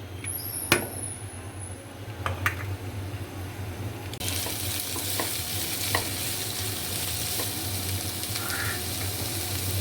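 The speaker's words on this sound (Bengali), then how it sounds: "এখন এর মধ্যে যে সবজিগুলো সিদ্ধ করে রেখেছিলাম সেগুলি সব দিয়ে দিচ্ছি" Capsicum and boiled vegetables hit a hot pan for pasta, so a gentle sizzle with scattered utensil taps suddenly swells into a loud, continuous frying hiss about midway.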